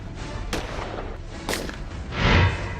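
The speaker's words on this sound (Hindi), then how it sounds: "हमलावर ने चलाई 3 गोलियां।" Gunfire in a news report on an attack on a BJP legislator in Delhi, with three sharp, loud shots spaced about a second apart, followed by a deeper, longer boom-like rumble near the end.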